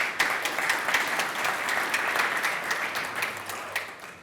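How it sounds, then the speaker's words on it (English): An audience at a corporate event held at the Williams F1 venue gives a round of applause, steady moderately faint clapping that continues for several seconds without talk. "Can we give them a round of applause for that"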